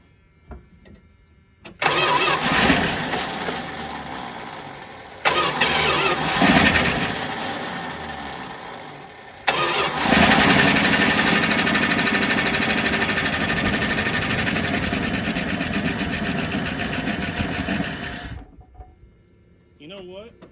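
A 1979 Chrysler Cordoba with a suspected ignition switch fault cranks and catches in several tries, loud nearby whirring starts that fire into rough running, the last one idling for about nine seconds before cutting off.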